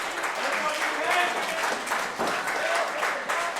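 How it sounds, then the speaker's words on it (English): A packed crowd at a wrestling match in Abilene, Texas, applauds in a dense, sustained wash of clapping, with a commentator talking over it. "This crowd in Abilene showing their appreciation"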